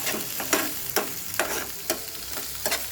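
Potatoes stirred into frying onions in a pan for a home onion curry, a spoon scraping in several distinct, evenly spaced strokes over a steady close sizzle.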